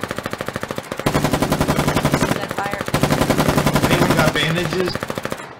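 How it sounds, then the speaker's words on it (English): Machine gun fire rattles in the war game Foxhole, long rapid bursts of loud evenly spaced shots running nearly continuously, with a voice talking over the gunfire. "I has machine gun."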